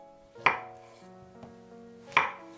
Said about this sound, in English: Cut them into sections.